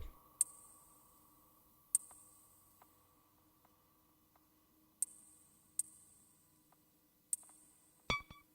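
Small, sparse clicks from a Eurorack modular synthesizer, five or six sharp ticks at irregular intervals over a faint low hum, ending in a brief cluster of clicks.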